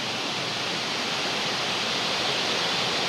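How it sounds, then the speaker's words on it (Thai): A constant, dense rushing roar of a tiered waterfall in Mae Kampong village in the mountains, steady and close, heard alone. "ทุกคนนี่จะเป็นน้ำตก ชั้นกะทิสองงาม"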